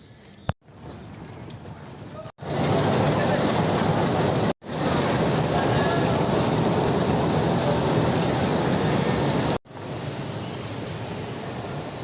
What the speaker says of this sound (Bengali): কমলাপুর থেকে একবার ডাইরেক্ট পাবনার ট্রেনে উঠলাম